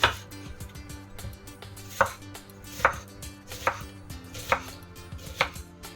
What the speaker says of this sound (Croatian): spremamo luk, sećemo ga na rebac